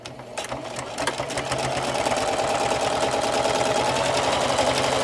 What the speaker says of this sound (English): All right, let's sew.